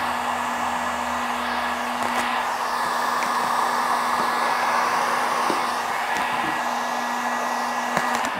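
A heat gun blows hot air over Surfex interior vinyl film on a round tabletop, a steady droning whoosh with a faint tonal hum running unbroken throughout, occasional small clicks and handling noises over it.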